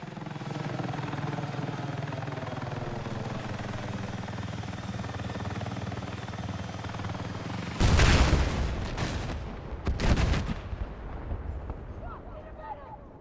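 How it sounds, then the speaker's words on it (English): Helicopters and jets in the video game Battlefield 6 make a continuous loud rotor and engine roar, followed by heavy explosive bursts. "this has probably been your experience with helicopters and jets in Battlefield 6."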